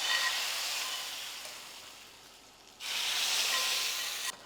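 Hot tadka tempering sizzles and hisses as it is poured into a Telangana dal pulusu, a steady broadband fizz that fades, then surges loudly again before cutting off; no talk.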